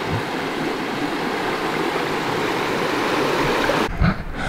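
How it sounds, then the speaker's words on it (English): Bay Creek in the Shawnee National Forest rushes along in a steady, close, broadband gurgle of flowing water that holds constant before cutting off abruptly near the end. "That is a creek, folks."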